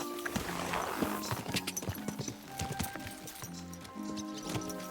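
Horse hooves clip-clop in a steady riding rhythm in the video game Kingdom Come Deliverance 2, clear and close, with faint background voices at times.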